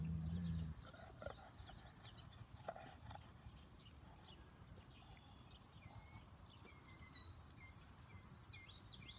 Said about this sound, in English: Ooh, there's a little red bird that flew in.